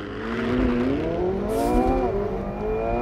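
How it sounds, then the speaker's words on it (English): A McLaren sports car launches hard from a standstill, its engine note climbing steadily through the gears in a loud, continuous roar heard from inside the cabin, with no one speaking. "All I have to do is floor the throttle, boost is building, and we're off."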